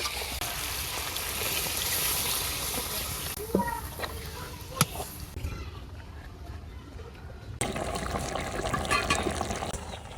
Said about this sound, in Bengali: আমি একটু জল দিয়ে দেব